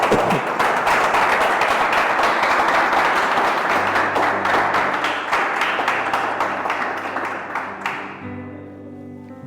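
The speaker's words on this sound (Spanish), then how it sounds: "fuerte aplauso a todos" A church congregation applauds loudly and densely for several seconds before the clapping thins out. Sustained organ or keyboard chords enter underneath and carry on as the applause fades.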